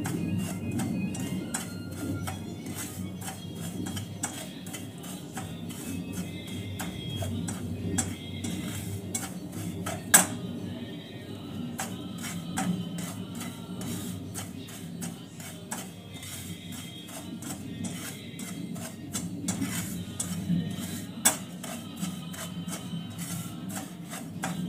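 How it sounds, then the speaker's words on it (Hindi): Semolina roasting in a pan while being stirred, a steady dry scraping and rustling with fine ticking grains, continuous and close for the whole stretch, with an occasional sharper knock of the spoon. "सूजी भुनने में थोड़ा टाइम लगता है, ये सूजी भुन रही है।"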